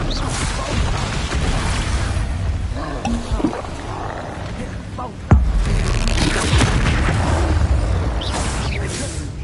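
Spell blasts and explosions in Hogwarts Legacy rumble and boom, with one sharp burst near the middle, layered over roaring creature noises and dense combat effects, and a voice shouting briefly.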